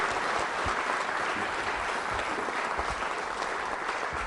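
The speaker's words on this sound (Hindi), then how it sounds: "मैम के लिए तालियां जोरों से बजाइए आप." An audience at a college quiz show held for a Valentine's Day event applauds someone speaker, a steady, dense wash of many hands clapping that holds evenly throughout.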